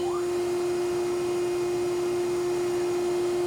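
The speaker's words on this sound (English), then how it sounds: "Before I do that, I'd like to turn on our grinding wheel," An 8 by 20 inch Okamoto high-precision surface grinder with its grinding wheel spun up, giving a loud, steady motor whine with a strong constant hum, running alone without speech.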